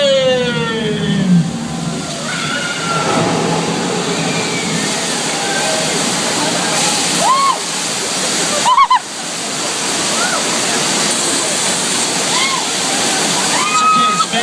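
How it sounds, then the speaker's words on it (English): A simulated tidal wave of real water rushes past on the Universal Studios backlot tour, a steady loud broadband roar and slosh lasting throughout, with a brief splashing burst midway and people talking over it. "That's real water."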